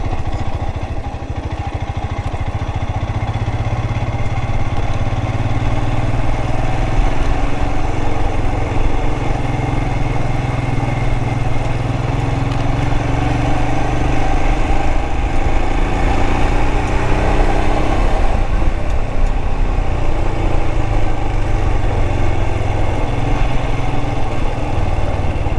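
A Royal Enfield Himalayan 411 motorcycle rumbles steadily on a trail, its single-cylinder engine loud and close in low gear with a slight rise and fall in revs and no voices.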